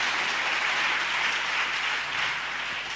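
Church congregation applauding the Lord during a French-language sermon, a dense, steady wash of many hands clapping at once, close and loud throughout with no voices over it.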